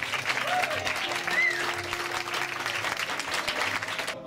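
A live audience at a magic show applauds to welcome Finnish magician Riku Pajari of Mikkeli: thick, continuous clapping from a crowd, fairly loud and even, with a faint whistle or two and a few stray voices underneath, cutting off abruptly.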